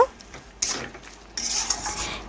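Utensil scraping and clinking in a pan while mixed vegetables and fish roe are stirred together, two bursts of scraping with quieter gaps between.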